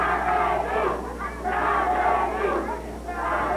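Roaring crowd at a live wrestling show, rhythmic chanting and cheering swelling in loud waves with a constant low hum underneath.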